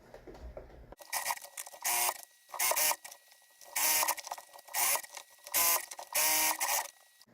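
A sewing machine stitches a single-fold hem along the top of a fabric decor piece, sounding as a close series of short, evenly spaced mechanical bursts with quiet gaps between them.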